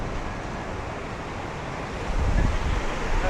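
Ocean waves wash onto the beach at Suan Son Pradipat in Hua Hin as a steady broadband roar, mixed with heavy wind buffeting the microphone and a slightly louder surge toward the end.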